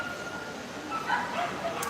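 A Shiba Inu gives faint, high yips and whimpery barks over a steady background noise, with no talking.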